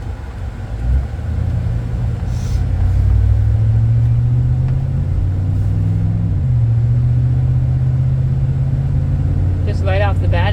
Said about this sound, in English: it's got a good acceleration and the motor sounds good